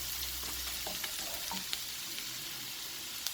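Ginger and garlic fry in a pan as the base for daal, a steady close sizzle with faint crackles and a few soft stirring clicks throughout.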